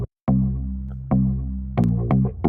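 Stem-split bass track from a funk mix, played alone as deep sustained bass notes with sharp attacks, several notes in a loose groove after a brief gap of silence.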